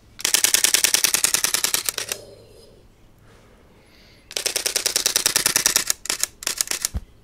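Rapid bursts of ultra-fast camera shutter clicks, a long machine-gun-like run, a pause with low rumble, then another long burst ending in a few separate clicks, loud and close.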